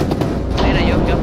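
A short burst of rapid gunfire in the video game Rainbow Six, several shots packed tightly together against loud game noise.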